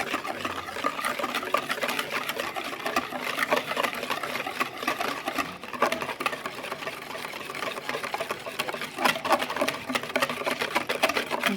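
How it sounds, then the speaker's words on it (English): Wet ingredients for vegan double chocolate beet muffins being whisked in a bowl, a fast, steady rattling whir with no pauses throughout, close and fairly loud, no talking. "So I'll just whisk that together."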